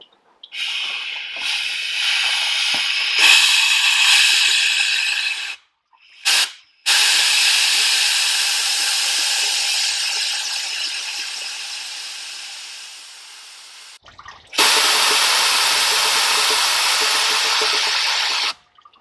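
Compressed air from a shop compressor blasts through the radiator of a VW T5 camper in long, loud, steady hissing bursts, with brief pauses between them as the nozzle is lifted and reset.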